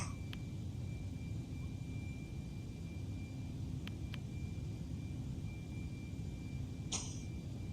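Boeing 747 jet engines in flight in Microsoft Flight Simulator, a steady broadband rumble and roar during the climb, continuous and moderately loud throughout with a few faint clicks and no talking.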